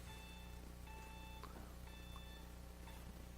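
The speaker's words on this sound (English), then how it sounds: "It was an alarm" An electronic alarm beeps in repeated bursts of steady tones, each lasting about half a second with short gaps between, faint against a constant low hum.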